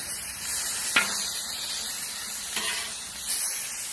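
Fish sizzles steadily on a Blackstone griddle while being cooked for tacos, a dense close frying hiss with a few sharp clicks of a spatula flipping pieces, and no talk.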